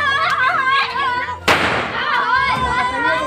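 Diwali firecrackers burst close by in a sharp, loud bang midway through, set against excited chatter and voices of people celebrating outdoors.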